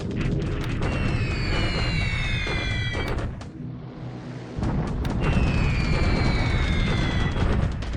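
A bomb strike in the World War II strategy game War in the Pacific: Admiral Edition sounds as a loud, sustained rumbling blast. The deep roar drops briefly, then surges back with whistling tones above it, and no one speaks.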